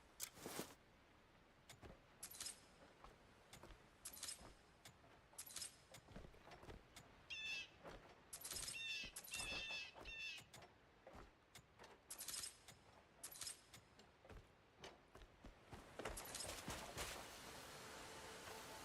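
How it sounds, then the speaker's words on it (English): Bird calls in the open world of the video game Crimson Desert: short chirps and squawks repeat at irregular intervals, moderately loud, with a warbling cluster in the middle and no talk. "I hear some bird action"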